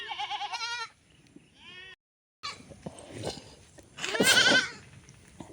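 Several goats bleat from their shed, loud wavering calls close by, one pair at the start and a louder, longer cry near the end, with quieter shuffling in between.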